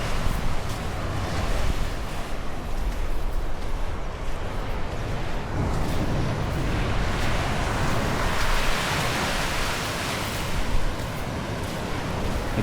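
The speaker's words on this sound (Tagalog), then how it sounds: "Malakas yung alon dito" Strong ocean waves surge and break continuously along the shore at Casiguran, Aurora, a rough current stretch unsafe for swimming, a loud steady wash of surf with wind buffeting the microphone throughout.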